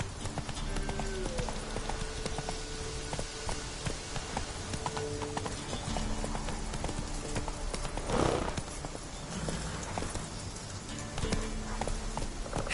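Horse hooves clip-clop at a steady galloping rhythm in The Witcher 3 game, sounding close and continuous over layered game music and ambience, with a brief louder burst midway.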